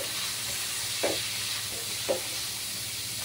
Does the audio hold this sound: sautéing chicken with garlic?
yes